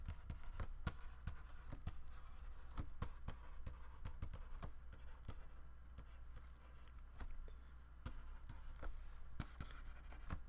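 Chalk or pen strokes on a board during a calculus lecture on unit tangent vectors, heard as a steady run of short, sharp taps and scratches spread across the clip, fairly close and fairly quiet, with no talking.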